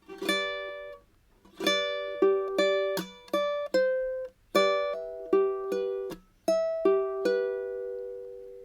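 Fingerstyle ukulele playing a song, bright plucked notes and chords in a steady melodic pattern with brief pauses, close and clear with no talking.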